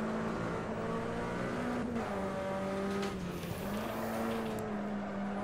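A Puma P052 race car in a racing video game at Guapore drones along with a steady, buzzing engine note that rises and dips through gear changes, alone and fairly quiet.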